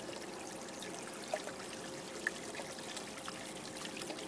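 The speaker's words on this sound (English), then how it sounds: "I haven't got enough water flow, the flow's not right" Water trickles and pours steadily through a small test sluice fed by a 500 gallon an hour pump, a faint continuous burble with a couple of brief splashes.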